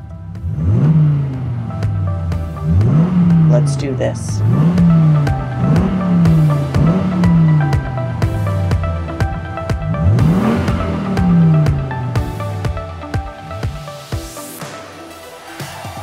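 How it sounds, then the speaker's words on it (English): A car engine revs hard again and again, with loud rising and falling vroom sweeps in quick succession and a brief tire squeal. A short spoken line sits over the revving near the start. "Start your engines."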